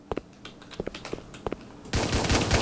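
Rapid gunfire from a Roblox A Dusty Trip zombie fight: sharp, evenly spaced shots crackle for about two seconds, then give way to a denser, louder burst of shooting and noise at the end.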